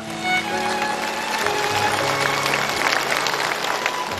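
A studio audience on the Chinese TV show Wait for Me applauds steadily as a guest is called onstage, sustained clapping running throughout with soft music tones underneath.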